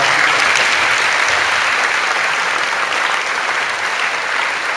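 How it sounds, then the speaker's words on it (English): Dense, loud applause fills a school Memorial Day assembly, many hands clapping together in a continuous wash that holds steady for a few seconds. "You give him a clap."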